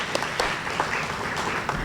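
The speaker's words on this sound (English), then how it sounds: "Can we please give a round of applause for these hardworking commissioners" Audience at a district town hall meeting applauds the commissioners and board members, a steady mass of clapping with a few sharper individual claps, moderately loud and continuous for under two seconds.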